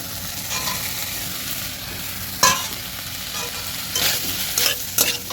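Potatoes and boiled taro stolons fry in a pan for a vegetable curry while being stirred, a steady sizzle broken by a few sharper scraping strokes of the spatula near the end.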